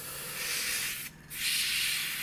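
Flat black paint sprays in a steady hiss onto the wheels of an Arma Hobby P-51B Mustang scale model, with a brief pause in the middle before the spraying resumes, close and fairly loud.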